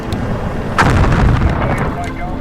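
Heavy gunfire from a Bradley fighting vehicle in the 1991 Gulf War, a loud booming burst that hits and keeps rumbling and crackling over steady battle noise.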